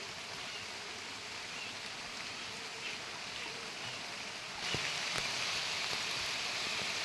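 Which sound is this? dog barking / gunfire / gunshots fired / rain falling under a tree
rain falling under a tree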